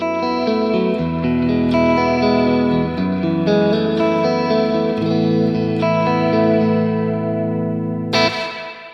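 An electric guitar plays sustained chords through a springy reverb with slapback echo, ringing and washy, ending with a brief bright swell.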